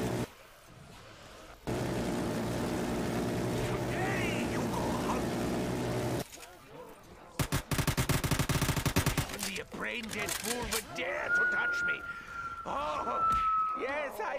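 Video game gunfire sounds in bursts of rapid automatic shots, loud and close, broken by brief pauses, with game effects and a rising tone near the end.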